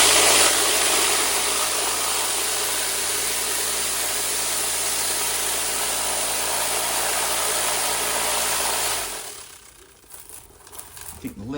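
Rock tumbler churning gneiss with water and ceramic media, giving a steady loud grinding, rattling rush that cuts off near the end and leaves a few faint clicks.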